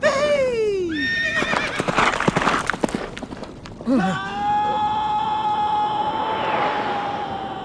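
Horses in the Settlers 3 video game neigh and whinny repeatedly, loud and close, with hoof clatter and commotion in between and a long whinny trailing into sustained tones at the end.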